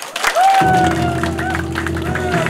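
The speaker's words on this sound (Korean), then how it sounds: "여러분의 큰 박수로 시작하겠습니다" Audience applause opens a ceremony for a Gyeongju mayoral preliminary candidate's campaign office. The clapping rises suddenly and holds steady, close and fairly loud, over a sustained droning musical tone with a gliding whistle-like note above it.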